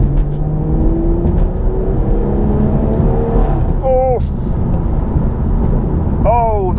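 Mulgari ICON 03 car accelerating hard in fourth gear, engine note rising steadily and loudly from inside the cabin, then sharp rising whines at each gear change, with a brief voice over it.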